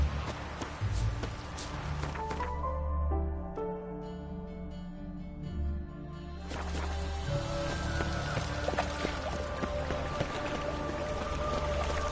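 Steady rain falls in The Witcher 3: Wild Hunt, a continuous hiss of drops that carries on under the game's music and ambient layers, briefly thinning before swelling again.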